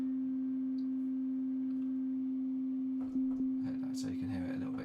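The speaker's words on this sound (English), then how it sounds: "let's put that back on a sine wave" A steady, pure sine tone from a synthesizer in Ableton Live holds throughout, joined near the end by faint clicks and brief murmurs.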